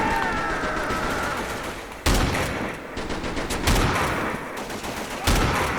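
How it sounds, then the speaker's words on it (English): Video game shotgun fire in Mercenaries 2, three loud booming blasts spaced about two seconds apart over a dense, busy battle soundscape. "Shoot two shotguns at once."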